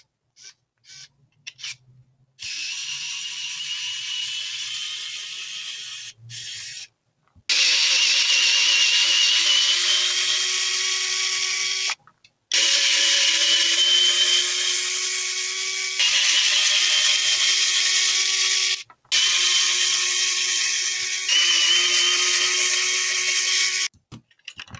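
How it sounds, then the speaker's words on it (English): Electric screwdriver backs the side screws out of a DJI FPV drone, with several separate high-pitched whining bursts of a few seconds each, close and loud, separated by brief silences. "First of all, we remove the side screws."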